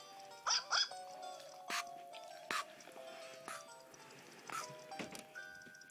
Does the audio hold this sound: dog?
yes